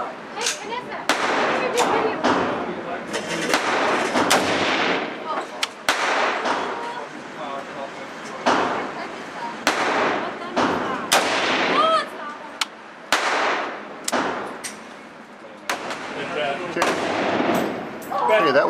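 A newly built 6.8 SPC rifle fires its first rounds outdoors: a string of loud, sharp gunshots at irregular intervals close by, with talk and exclamations between shots.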